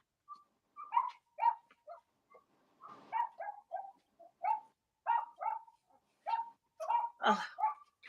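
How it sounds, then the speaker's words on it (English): A dog barks in short, repeated yips and whimpers, a string of quick high-pitched bursts at moderate distance with gaps between them, no speech over it. "Their dog is here."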